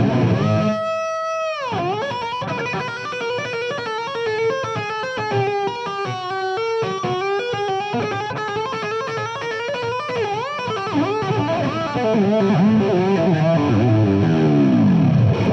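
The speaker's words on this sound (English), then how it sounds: "So obviously that is the Floyd Rose under some fairly serious duress." Framus Wolf Hoffmann WH-1 electric guitar with heavy distortion, its Floyd Rose tremolo bar dipped and fluttered hard so the pitch wobbles and dives repeatedly through a continuous loud metal passage, with no voices.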